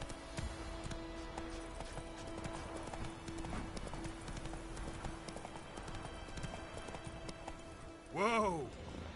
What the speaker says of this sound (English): Faster. Whoa there, Roach.